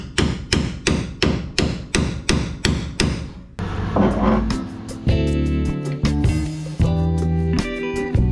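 Rapid metallic hammer strikes drive a punch into the steel bodywork of a 60 Series Landcruiser, about a dozen loud, evenly spaced blows close by, followed by a denser stretch of clanking and ringing metal.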